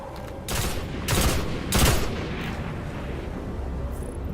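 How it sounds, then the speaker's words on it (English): The Red Death pulse rifle from the video game Destiny fires three loud bursts of deep, cracking shots, each about half a second apart, with rumbling echo trailing between them and no talk. "It also has a pretty intoxicating noise when firing it. Hearing a deep crack emanate from each burst is very satisfying."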